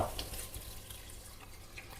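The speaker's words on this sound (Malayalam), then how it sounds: "ഇനി നമുക്ക് ഇതിലേക്ക് വെള്ളം ചേർത്ത് കൊടുക്കാം" A steady, fairly quiet stream of water runs and pours continuously into a pan of seafood masala for a couple of seconds.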